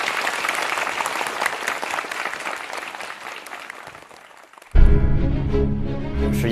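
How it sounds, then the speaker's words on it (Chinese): Audience applause at a Chinese crosstalk comedy competition on a TV stage, a steady burst of many hands clapping that fades and then gives way abruptly to loud music. "接下来让我们用掌声祝福"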